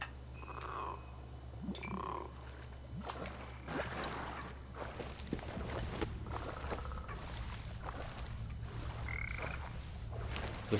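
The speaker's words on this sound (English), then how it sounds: "It's a frog." A few short, throaty frog croaks in the video game ZombiU sound at irregular intervals over a low rumbling hum and soft rustling.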